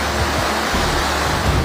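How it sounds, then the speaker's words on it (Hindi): Flooded Mandakini river in the Kedar valley, a loud, continuous roar of rushing water with a broad, steady rumble and no voices. "मंदाकिनी नदी अपने उफान पर थी"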